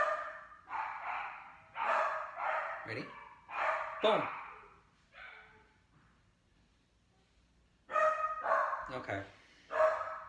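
A dog barks in short repeated bursts during a training session, several loud, close barks in clusters with a pause between them, while a person speaks briefly.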